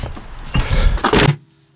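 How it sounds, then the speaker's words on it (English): A garage door is pulled shut, a rolling mechanical rumble ending in a firm closing thud, close and loud, then near silence. "I shut the garage door."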